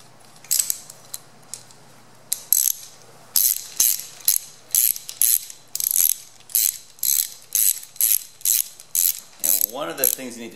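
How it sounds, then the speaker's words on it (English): A hand ratchet clicks in repeated short bursts, close and crisp, as rocker arms are bolted onto a Dodge Viper engine during a valvetrain upgrade, with a steady working rhythm; a brief voice comes in at the end. "now we're going to bolt these rocker arms on"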